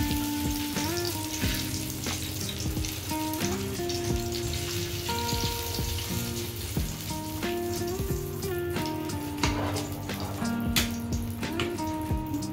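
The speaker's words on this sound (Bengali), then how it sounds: "ডিমটা দিয়ে দিচ্ছি আমি" An egg fries in hot oil for dal, a continuous crackling sizzle heard close and steady beneath soft background music, with no talking.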